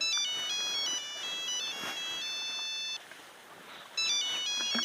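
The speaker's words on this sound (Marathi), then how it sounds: "हे फोन कोणाचा वाजतोय?" A mobile phone ringtone in a home plays a bright, repeating electronic melody of stepped tones, stops briefly near the end, then starts again, clear and fairly close, with no speech over it.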